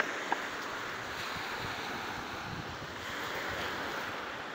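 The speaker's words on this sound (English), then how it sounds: "We went to the beach and it's only 50 degrees out." Ocean surf washes onto a beach on a cold 50-degree day, a continuous broad roar mixed with wind buffeting the microphone, fairly faint and even.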